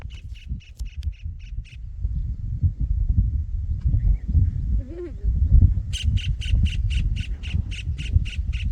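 Birds squawk in bursts of repeated harsh calls among the trees of a farm orchard, near and fairly loud, over a steady low rumble of outdoor background noise with a brief voice-like sound in the middle.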